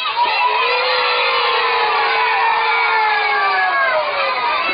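A group of children shouting together in a long, rising and falling crow-like call, loud and sustained, voices imitating a rooster.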